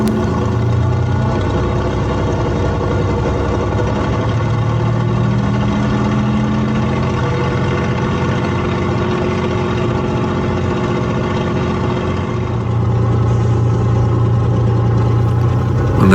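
A Spitfire's Rolls-Royce aircraft engine idles at a runway holding position, a loud, steady, rough mechanical drone with a slight rumbling unevenness, continuous and close throughout, shifting tone slightly near the end.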